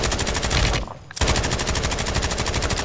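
Rapid automatic gunfire in Call of Duty: Warzone, a loud close stream of shots that stops briefly and then resumes at the same steady rate.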